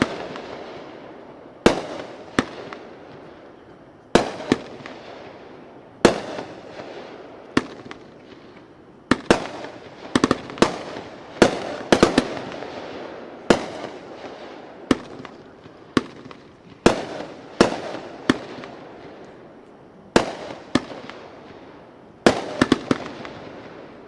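A Viva Mexico fireworks cake fires 19 shots at a fireworks demo expo: sharp cracking launches and bursts popping at uneven intervals, some in quick clusters, moderately loud with short reverberant tails and no talk.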